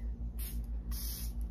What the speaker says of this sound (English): It sprays a lot and I just sprayed my whole mirror.